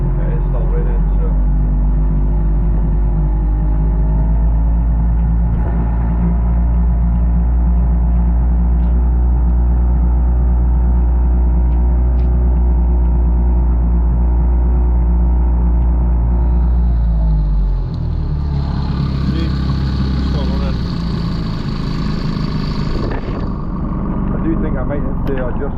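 1998 Mariner Bigfoot 25hp four-stroke outboard idling in the rain with a steady loud low hum that shifts lower partway through, while someone talks over it.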